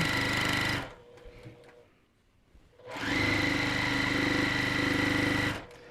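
A Juki sewing machine runs fast and steady at close range in two bursts, each a few seconds long, with a short quiet gap between them.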